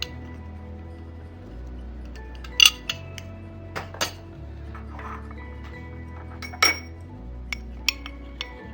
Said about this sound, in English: you just have to add the lemon juice to this potato juice like this